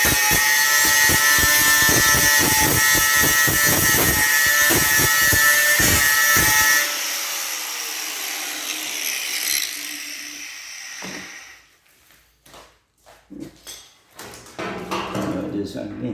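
A grinder fitted with a cutting blade scrapes paint off a metal trailer box with a loud, buzzing whine and rapid ticks, then cuts off and winds down, leaving quiet scattered clanks and some speech.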